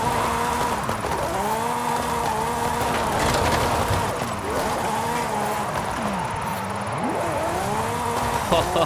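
Lamborghini Countach drifting in the Forza Horizon 5 racing game, a loud continuous engine roar with sweeping revs rising and falling through repeated slides, sustained throughout.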